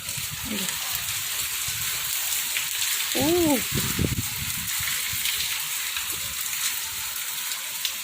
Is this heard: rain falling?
yes